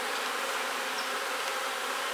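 A dense, steady swarm hum of honey bees around an open hive, close and continuous with no voices.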